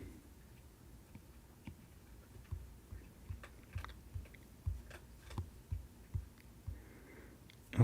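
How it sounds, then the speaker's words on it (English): A cat crunching dry food nearby, soft irregular chewing crunches repeating every half second or so, quiet against a faint room hush with no talking. "I don't know if you can hear my cat crunching."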